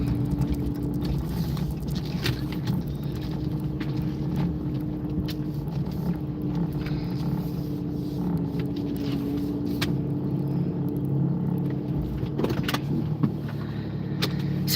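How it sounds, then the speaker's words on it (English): Steady traffic rumble of cars passing by on a road, a continuous low drone with a faint hum and occasional brief louder swells, heard from close by with no talking. "Look, watch all the red cars go by."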